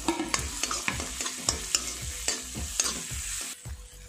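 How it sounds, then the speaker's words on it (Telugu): Onions with ginger garlic paste being fried and stirred in a pan, a soft sizzle under repeated sharp scrapes and clinks of a spatula at an irregular rhythm, close and fairly quiet. "అల్లం వెల్లుల్లి పేస్ట్ వేసుకున్నాక పచ్చివాసన పోయేంత వరకు వేయించుకోవాలి"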